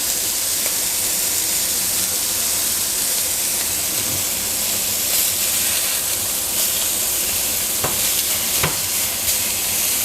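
Lamb rump steak fat rendering in a hot pan, giving a steady, loud broadband sizzle throughout with a few brief clicks and pops of spitting fat.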